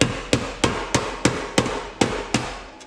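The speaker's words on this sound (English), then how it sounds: "all I'm going to be doing is folding this top cover back and kind of tapping it down" A hammer tapping down the top cover of a stock Ford Mustang muffler, eight or nine evenly spaced sharp metallic strikes, loud and close with a short ring after each, and no talking.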